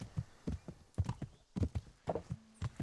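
Horse galloping in the video game Kingdom Come: Deliverance, a steady run of loud, close hoof clip-clops in an even rhythm with no talk over them.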